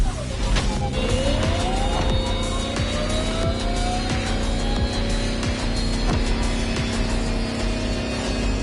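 An electric Lamborghini hyper concept car races in a driving game, a loud steady drone with whining pitch sweeps, tire squeal and skidding layered over continuous road rumble.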